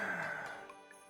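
A single full, deep breath drawn in during a tai chi exercise, soft and airy, fading gradually over about a second.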